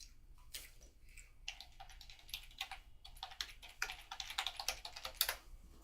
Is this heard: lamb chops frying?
no